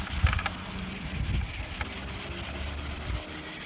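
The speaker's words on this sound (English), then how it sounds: "take the Scotch-Brite and just rub it into a deeper level." A Scotch-Brite pad rubbed over a freshly waxed snowboard base, a soft continuous scrubbing and rasping close by, fairly even across a few seconds.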